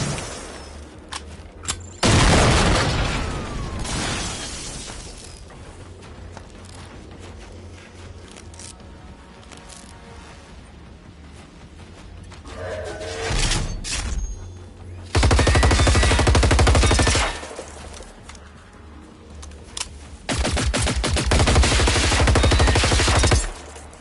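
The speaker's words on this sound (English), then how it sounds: "It is a hunting rifle." Hunting rifle fire in the video game Generation Zero: loud bursts of gunfire in several separate stretches, some rapid and sustained, with heavy booming shots and quieter gaps between them.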